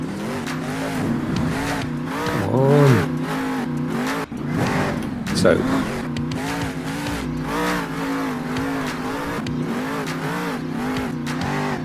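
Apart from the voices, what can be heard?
truck engine revving in a Stadia video game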